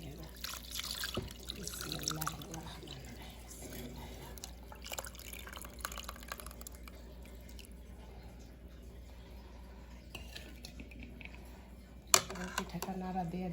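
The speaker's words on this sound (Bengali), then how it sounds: "আমি দুধ দিয়ে দেবো এখন" Milk is poured over soaked, cooled pitha cakes in a bowl, giving faint, close trickling and dripping in a quiet room, with a sharp knock near the end.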